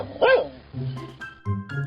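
A cartoon dog in a Hindi comedy story gives one loud, close bark, then a few lower, rougher barking sounds that follow in short bursts.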